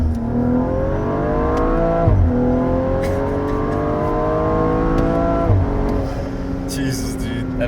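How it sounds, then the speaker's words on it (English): A 390whp BMW M135i sleeper accelerating hard through the gears, its engine note climbing steadily with sharp shift dips, loud and close from inside the car, with a brief exclamation from the driver. "I'm gonna have a little rip here in the M135"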